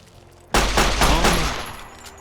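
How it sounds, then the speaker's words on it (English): A single loud handgun shot fires in Fallout New Vegas, a sharp close crack followed by a rolling, decaying echo, standing alone in an otherwise quiet scene. "let's pull out our handgun and see how we're doing"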